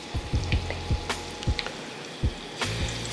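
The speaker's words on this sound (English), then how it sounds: "Drop the salmon in there." Salmon fillets laid skin side down in a hot skillet, frying with a steady sizzle broken by repeated soft thuds and knocks, fairly close and moderate in level, with no talk.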